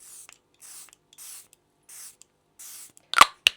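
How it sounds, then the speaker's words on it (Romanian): Charlotte Tilbury Airbrush Flawless Setting Spray misted onto a face: five short, soft hissing pumps spaced evenly, followed by two sharper, louder close clicks or spritzes at the end, quiet between bursts. "Și o să mă dau cu spray-ul ăsta de la Charlotte Tilbury, este Airbrush Flawless Setting Spray."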